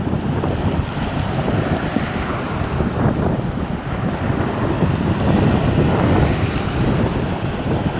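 A strong headwind blows along the lower Wangpi River near the sea, making a steady loud roar and rumble of gusts buffeting the microphone throughout.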